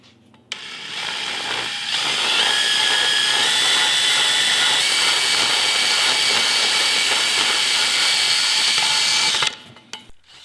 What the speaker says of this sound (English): start grinding down some of this metal